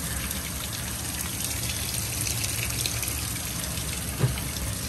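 Hot water gushing in a steady stream into the tub of a Kenmore 80 direct drive washer loaded with towels, a constant hiss and splash heard close up.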